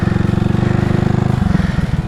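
A Honda Grom motorcycle engine held at steady open throttle during a wheelie, a loud, close, rapidly pulsing drone that dips slightly in pitch near the end.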